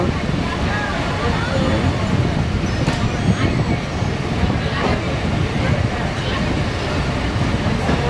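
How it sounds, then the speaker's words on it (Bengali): A passenger train departing Faridpur toward Madaripur runs on the rails with a continuous loud rumble and rattling wagon noise, with faint clicks of the wheels over the track joints heard close from on board. "ট্রেনটি ছেড়ে দিল"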